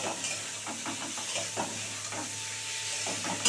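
Shrimp and flat beans fry in a pan while a utensil stirs them, producing a soft continuous sizzle broken by a rhythmic series of light scraping strokes, close and unaccompanied by speech.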